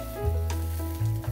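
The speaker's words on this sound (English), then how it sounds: "Scallops onto the dry frying pan" Steady, loud sizzling of scallops searing in a hot, dry frying pan, a continuous crackle with slight swells, no voices.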